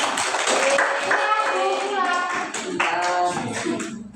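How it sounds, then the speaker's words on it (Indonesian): Classroom of children clapping hands together in a lesson, bright sustained applause mixed with young voices chattering and calling out over it. "Berikan tepuk tangan."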